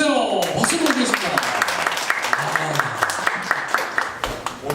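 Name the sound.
audience applause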